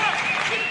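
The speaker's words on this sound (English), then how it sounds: "Crowd here at the Snake Pit making a ton of noise" A dense, loud crowd roars at the Snake Pit basketball arena during a Saskatchewan Rattlers versus Edmonton game, a steady wash of cheering and clapping with no break.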